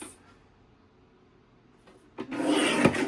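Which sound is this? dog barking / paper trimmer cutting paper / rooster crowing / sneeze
paper trimmer cutting paper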